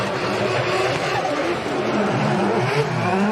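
Drift cars battling at a Formula Drift Japan final: engines roar and rev over steady tire noise, with a commentator talking over the action throughout.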